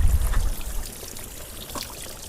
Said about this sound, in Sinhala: මේක ඇත්තට මේ මාර පිරිසුදු වතුර තියෙනවා.